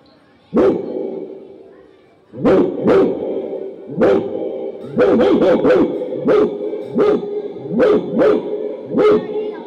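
A person imitates the deep barking of a large Alsatian dog, loud repeated woofs in uneven bursts, some quick runs of barks close together.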